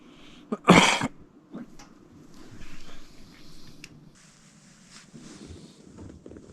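A man coughs outdoors while deer hunting in Maine, one loud, harsh burst near the start followed by softer throat sounds, with wind rustling the microphone in the background.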